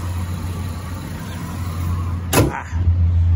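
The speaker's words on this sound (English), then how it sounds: "I'm going to shut this hood, though." The heavy hood of a 1995 Chevrolet Caprice Classic on 24-inch wheels slams shut once with a sharp, loud thud over the steady idle of its engine.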